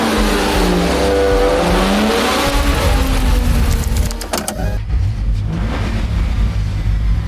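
A car engine revs hard and loud, pitch climbing and falling through several surges before settling into a lower, rumbling idle.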